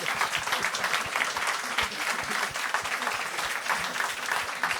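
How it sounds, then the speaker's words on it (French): A small group claps steadily for a few seconds, a dense patter of hands with no voices over it. "On applaudit tout le monde, merci."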